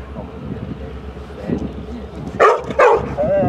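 A dog barks at a passing CN freight train, giving two loud, close barks after low rumbling background noise and some quieter whimpers. People talk nearby.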